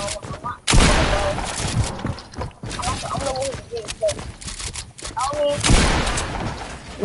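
Video game gunfire pops in scattered shots and short bursts, with louder blasts near the start and end, while people talk over much of it.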